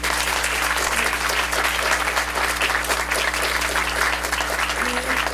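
Sustained applause from an audience at the close of a university law faculty debate, steady dense clapping filling the room without a break for several seconds.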